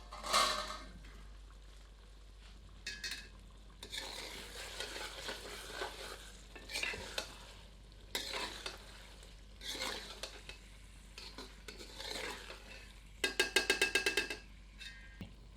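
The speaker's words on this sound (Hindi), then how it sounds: "इसे ढककर 10 मिनट धीमी आंच पर पकाते हैं, पर बीच बीच में करछी चलाते रहते हैं" Chicken cooking on low heat, stirred now and then with a ladle: faint bursts of scraping and metallic clatter against the pot over a quiet simmering sizzle, ending in a quick run of rattling clinks.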